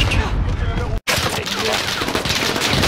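Rapid automatic gunfire in the Call of Duty Warzone game crackles loud and near, broken by a brief silent gap before the bursts resume, with voices mixed in.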